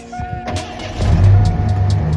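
A truck engine fires up after a core installation during a rapid repair, starting with a rising mechanical rumble about a second in and settling into a steady, loud low idle.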